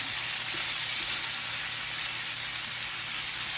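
Steady loud sizzling of chicken being stir-fried in a hot pan, a continuous crackling hiss throughout with no voices.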